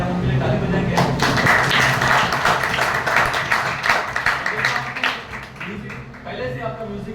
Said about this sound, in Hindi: उनके लिए ताली बजाएंगे।